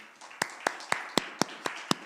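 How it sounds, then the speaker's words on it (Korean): During a Sunday thanksgiving service in a newly built church, sharp, evenly spaced hand claps ring out about four per second, seven distinct crisp beats close to the microphone over a faint background hum. "우리 하나님께 먼저 감사와 영광의 박수를 올려드리겠습니다"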